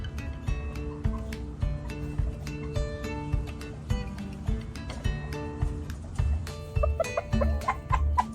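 Chickens cluck in a backyard chicken coop, a run of short, uneven, moderately close clucks and soft calls, with a few sharper squawks near the end and no talking.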